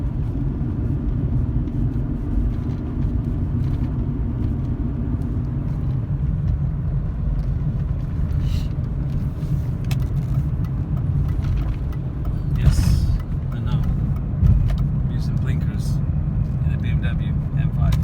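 A BMW E39 M5 cruising in fifth gear, with a steady low engine and road rumble throughout from inside the car and brief louder bumps near the end; a person talks over it.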